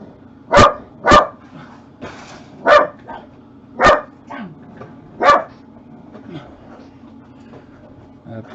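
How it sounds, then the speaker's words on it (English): A dog indoors lets out five sharp, loud barks spaced a second or so apart, with quieter yips and scuffles in between over a steady low hum. "Apologies for the dog."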